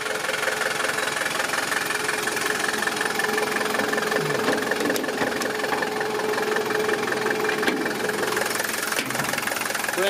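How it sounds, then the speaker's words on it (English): Diesel vehicle engine idling steadily with a knocking, rattling clatter, close and continuous throughout with no talk. "It's a diesel."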